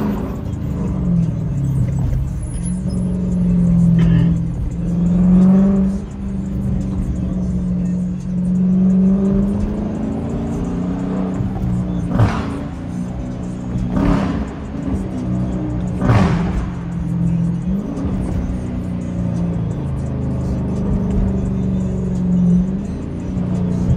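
A Dodge Challenger R/T driven downtown late at night, its engine a steady low rumble with a few swelling revs and passing whooshes, close and continuous throughout.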